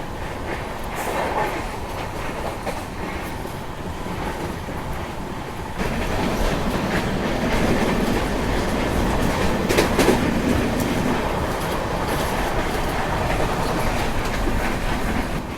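Passenger train running on rails toward Madgaon at sunset, heard from on board as a loud, continuous rumble with faint rhythmic clatter that swells midway and never lets up.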